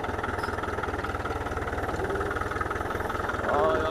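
A Güldner tractor engine chugs with a steady, fast rhythmic thump, fairly close and continuous, growing slightly louder near the end; a voice talks over it.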